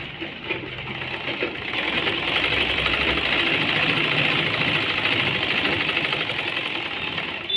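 A sewing machine runs steadily for several seconds as it stitches a seam on a Punjabi dress pant, making a continuous close whirring hum that starts with a brief lead-in and then holds level.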